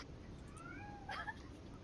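A cat meows indoors near a wooden door, two or three short rising calls over a low room rumble, moderately faint.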